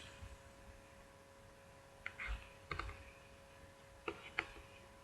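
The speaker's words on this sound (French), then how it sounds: "Et je clique." Quiet computer mouse clicks during a software installation, a few faint isolated clicks and a quick pair or two over a low steady hum.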